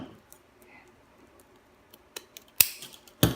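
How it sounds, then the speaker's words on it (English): A few sharp scissor snips trimming excess ribbon from a small rose gold bow for Mickey ears, scattered quiet clicks and handling rustle ending in two louder close cuts. "I will just trim off the excess here"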